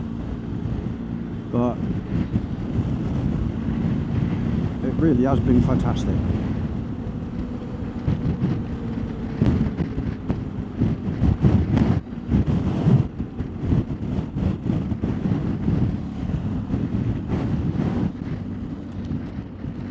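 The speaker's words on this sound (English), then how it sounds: "It's quite windy. I'm not sure if you can hear the wind" Strong winter wind buffets the microphone during a motorcycle ride on a BMW R1250GS in Scotland, a steady loud roar with gusty surges throughout while someone talks over it.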